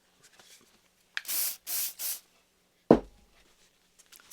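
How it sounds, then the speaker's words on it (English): A WD-40 spray can gives three short bursts of aerosol hiss in quick succession, close and fairly loud, followed by a single sharp hiss and then quiet. "let's go ahead and quickly spray the actual WD-40 on here"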